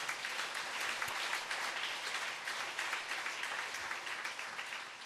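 A church congregation applauding during a Sunday evening service, dense sustained clapping from many people filling the room for about five seconds, fairly even in loudness without voices on top.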